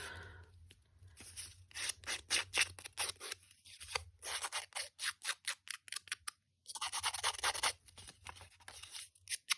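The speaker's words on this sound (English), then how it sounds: "Other side I'm gonna rough up if I can find my scissors." Close-up scissors scraping and rasping against paper in quick repeated strokes, pausing briefly now and then, with no voices.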